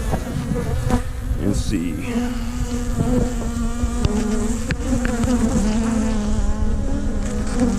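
Honey bees buzz steadily and loudly from an open hive colony during a beekeeping inspection above the queen excluder, a dense continuous drone with a few brief handling knocks and a short spoken remark.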